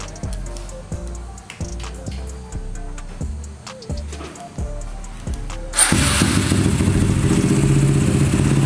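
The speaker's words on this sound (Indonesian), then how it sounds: "Kita nyalakan motornya." A motorcycle fitted with a CDI quickshifter setup, type A1 CDI-R with X sensor, gives a few thuds and clatters, then the engine fires up and settles into a loud, steady idle close by.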